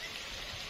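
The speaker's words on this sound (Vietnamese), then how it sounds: "Quá mưa rồi." Heavy rain pours down during a storm over a garden and a tent, making a steady, dense hiss of drops that fills the brief moment, with no voices.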